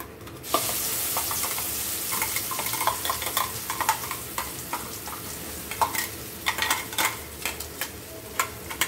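Steady crackling sizzle of dried red chillies, cumin and asafoetida frying in hot oil, with sharp pops and spits growing more frequent toward the end.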